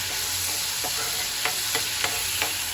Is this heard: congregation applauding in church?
no